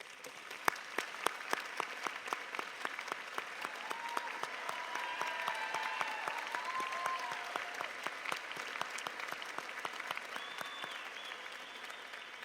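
Sustained applause from a large audience at a college graduation ceremony, many hands clapping steadily, with a few scattered whistles and cheers rising over it.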